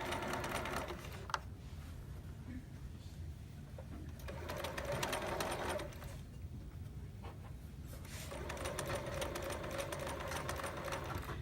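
A sewing machine understitches a seam allowance to a garment facing about an eighth of an inch from the seam, running in steady buzzing bursts with short pauses between them, close and clear with no talking.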